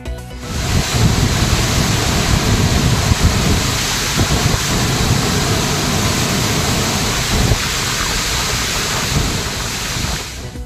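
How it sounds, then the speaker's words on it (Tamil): Floodwater roars down Manimuthar waterfall in Tirunelveli district after heavy rain, a loud, dense, continuous rushing wash with no breaks, buffeted by wind on the microphone. "நெல்லை மாவட்டம் மணிமுத்தாறு அருவியில் பெருக்கெடுத்து ஓடும் தண்ணீர்."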